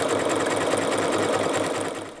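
A sewing machine stitches fabric applique with a steady, fast mechanical whir and rhythmic needle hum, loud and close, slowing off at the end.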